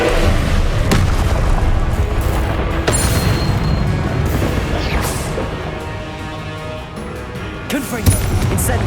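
Spell blasts in the video game Hogwarts Legacy, a dense, loud run of booming impacts and crackling bursts over a busy game soundscape, with a voice speaking over them.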